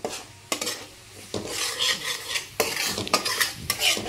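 Ginger-garlic masala frying in hot oil for a fish curry, stirred briskly with a metal spoon scraping the pan, loud close scrapes and clatters over a constant sizzle, no speech.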